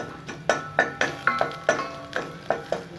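Finely chopped garlic stirred in butter in a pan, heard as a steady series of sharp utensil scrapes and taps against the pan, close and fairly loud, with a faint sizzle underneath.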